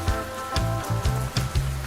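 Cartoon rain effect with steady patter and splashy hiss, overlaid by bouncy, rhythmic low musical thumps in a playful pattern, loud and continuous without talk.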